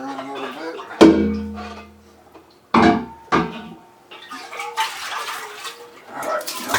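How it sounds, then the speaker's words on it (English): Water sloshes and clunks as it is swished inside a container while making homemade beer, in a few bursts, close by, with a person talking intermittently around it. "Swish water around a little bit."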